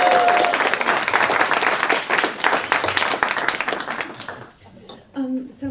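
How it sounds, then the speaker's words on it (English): An audience applauds Susie at an MFA student writers' reading, with loud, dense clapping that fades out near the end as a few separate sounds and a voice come through. "we have a round of applause for Susie"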